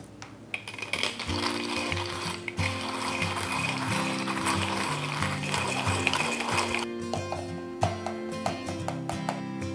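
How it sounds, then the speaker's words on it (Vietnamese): A small manual coffee grinder crunches beans with a continuous ratcheting, grinding rattle, close and loud, with music playing underneath. "Vì dụng cụ này khá nhỏ nên mình phải xay làm nhiều lần thì mới đủ được định mức cà phê mà mình cần"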